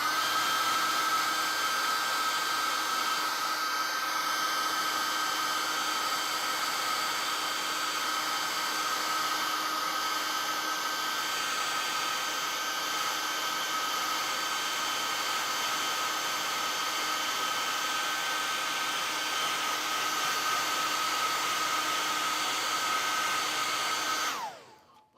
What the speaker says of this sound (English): I might as well hit this with the hairdryer.